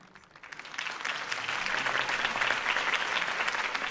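A crowd applauds after a campaign speech for a city election, the clapping swelling in quickly and then holding as a dense, even roar.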